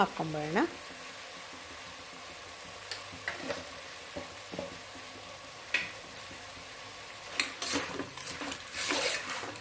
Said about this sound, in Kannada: ಚೆನ್ನಾಗಿ ಇದು ಬೇಯಲಿ ಫ್ರೈ ಆಗಲಿ ನೀರೆಲ್ಲ ಹಿಂಗಬೇಕು ಅಲ್ಲಿವರೆಗೂ ಚೆನ್ನಾಗಿ ಫ್ರೈ ಆಗಬೇಕು